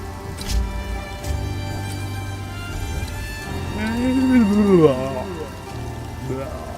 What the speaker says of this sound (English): It's been raining all day here.